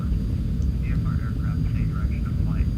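Steady low roar of a MiG-23 jet flying in Microsoft Flight Simulator X, a continuous engine rumble at an even level with someone talking over it.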